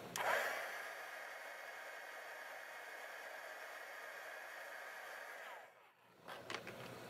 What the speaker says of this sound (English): Now I'm going to apply heat with the heat gun.